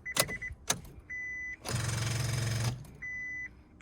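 A car's starter motor cranks sluggishly on a weak battery, a couple of short clicks and groans followed by a steady labored whirring burst of about a second, with faint electronic chimes between attempts.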